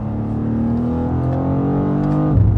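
A 2023 BMW M2 with a manual paddle-shift gearbox pulls away under gentle acceleration, its engine note steadily rising in pitch, loud and close, with a brief shift or throttle change at the end.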